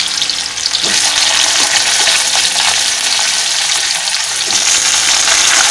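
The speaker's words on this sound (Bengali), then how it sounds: "ওলগুলোকে একটু ভাজা ভাজা করবো" Elephant foot yam and potato pieces frying in hot oil with cumin seeds in a pan, a loud, continuous close sizzle with spatula stirring scrapes throughout.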